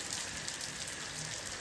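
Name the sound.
heavy rain falling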